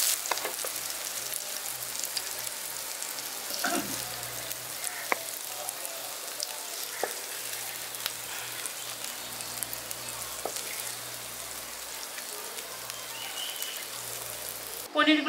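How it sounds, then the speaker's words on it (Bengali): Paneer pieces frying lightly in ghee in a village kitchen, a steady soft sizzle and crackle running throughout with scattered pops, a low hum underneath and a brief knock near the end. "পনিরগুলোকে আমি ঘিয়ের মধ্যে হালকা হালকা করে ভেজে নিয়েছি।"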